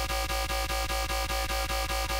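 Dubstep wub bass from a Cyclops synth preset with no effects, pulsing in a steady rapid wobble of about four beats per second, loud and continuous with no voices.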